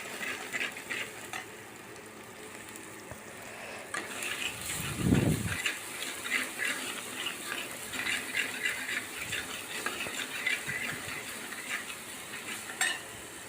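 Ginger garlic paste sautéing in a pan with curry leaves for mutton kola urundai, a soft steady sizzle under frequent stirring and scraping, with one louder clunk of a spoon or pan partway through.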